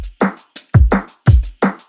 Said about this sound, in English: And there's some acoustic hats that come through in the pre